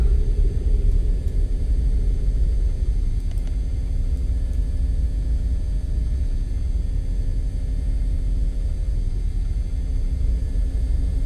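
Twin jet engines of an MD-80 airliner roar at takeoff power in the X-Plane 11 simulator, a steady, dense low rumble that holds without a break throughout.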